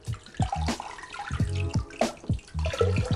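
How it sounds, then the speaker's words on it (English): Water from a jerry can is poured gently into an aquarium tank, giving a few bursts of gurgling and splashing separated by short pauses, close and moderately loud. "fill it with water, and get pouring"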